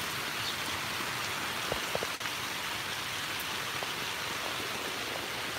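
Steady rain hisses down evenly, a soft continuous patter with a few louder drops and no voices.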